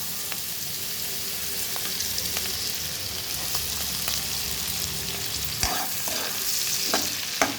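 Chopped beans stir-frying in hot ghee in a kadai give a steady, loud, close sizzle, with occasional scrapes and clinks from stirring.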